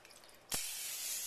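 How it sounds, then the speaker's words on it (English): A short pressurized hiss of cooking spray from an aerosol can, bursting on suddenly after a quiet moment and holding steady for almost a second, close and fairly soft, used on a bowl of sweet dinner roll dough. "And I'm going to take the cooking spray"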